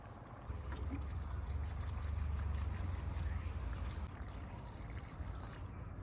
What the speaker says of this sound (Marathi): ह्यांका आता पाणी घालायचं आहे